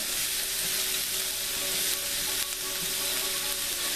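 Curry with onion and mustard seed frying in a pan for bhindi masala, a steady, dense sizzle that holds close and even throughout with no talk.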